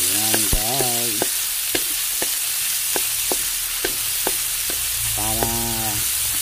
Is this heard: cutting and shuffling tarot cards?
no